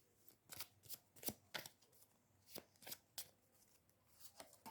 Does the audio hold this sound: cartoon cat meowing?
no